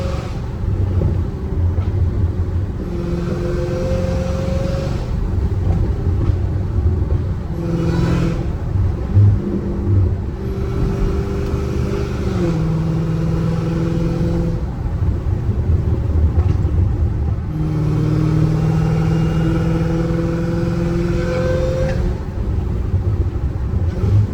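Dodge Challenger Hellcat Redeye engine revving repeatedly, each rise carrying a rising supercharger whine over a deep rumbling idle, loud and close with several rev pulls in a row.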